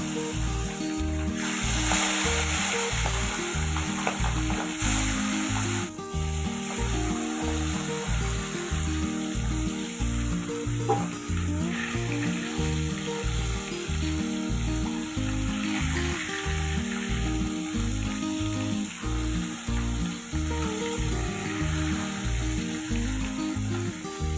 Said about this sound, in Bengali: এই একই পদ্ধতিতে আমি বাকি মাছগুলো ভেজে নেব।